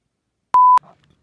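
A truck sounds a single short, clean electronic beep, loud and sharp, followed by a faint bit of background rustle.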